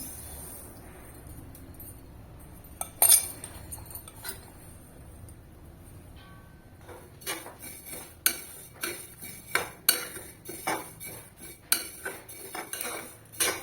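Black sesame seeds for ladoo dry-roasting in a pan, with a spoon clinking and scraping against the metal, sparse at first and then in quick, repeated sharp taps and stirs, close and with no talk.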